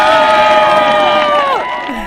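At a children's church worship service, children cheer and shout loudly in a sustained crowd roar, with a bright tonal horn-like vuvuzela drone underneath that bends downward and fades near the end.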